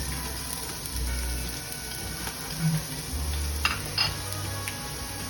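Onion sizzling in hot oil in a pan for a home-cooked chicken pastel, a steady close frying hiss with a few stirring scrapes and clinks, no talk.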